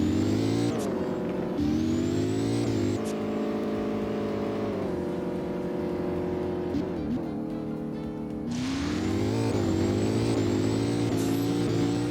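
A McLaren P1 engine in the Driving Empire video game, revving and holding steady tones with several distinct gear shifts and pitch drops, loud and continuous with no talking over it.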